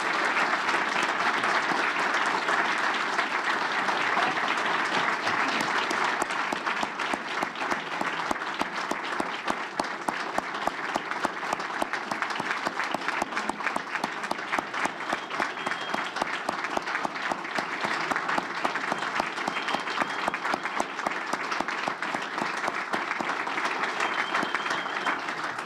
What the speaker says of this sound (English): Let's give them a great round of applause and tell them welcome home.